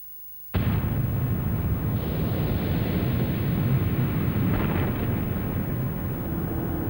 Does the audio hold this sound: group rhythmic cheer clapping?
no